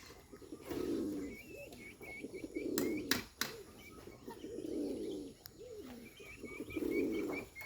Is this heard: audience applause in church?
no